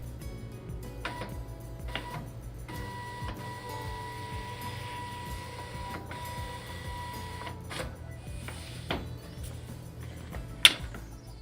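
A Zebra ZT411 industrial label printer runs its auto calibration, with a steady low mechanical hum, soft ticking and short whirring feed movements, and a sharp click near the end, all fairly quiet and without talk.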